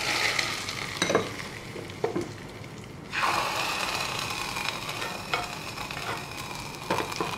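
Hot tempering of mustard seeds, sliced green chili and curry leaves sizzles steadily in a pan, with a sharp burst of crackling as it is poured into coconut tomato chutney, then a continuous close hiss and spatter.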